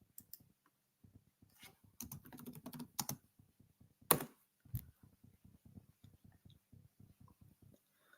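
Typing on a computer keyboard, close and fairly quiet, with quick irregular bursts of clicking keystrokes, a few louder key thumps, and brief pauses between runs, no talking.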